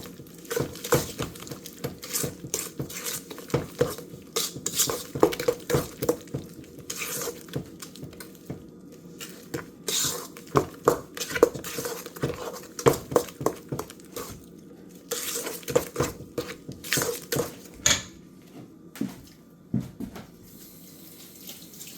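Rum cake batter being mixed in a bowl, giving a steady run of wet stirring and scraping strokes with irregular clinks, close and moderately loud without speech.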